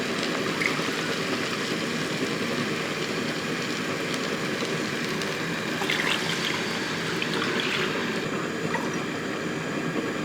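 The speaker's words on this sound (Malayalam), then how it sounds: "ഇനി നമുക്ക് ആ വെള്ളം കൂടെ അങ്ങോട്ട് ഒഴിച്ചു" Water pours steadily into a pot of rice for kuska biryani, a continuous close splashing rush lasting about ten seconds without pause.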